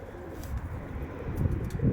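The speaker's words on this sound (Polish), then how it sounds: "O, wiedeńszczaki się trzaskają." Viennese pigeons cooing softly with low, murmuring calls and faint wing movement, fairly close, continuous across a brief moment outdoors, with no talking.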